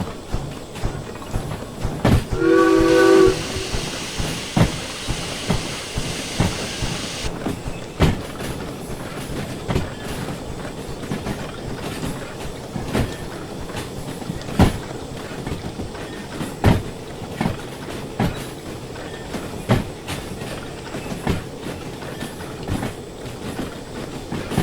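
A steam locomotive rolls along in the Derail Valley video game with a steady rhythmic clickety-clack of wheels over rail joints. Near the start there is a brief loud hiss and whistle-like tone, and the train then runs on with regular clacking beats.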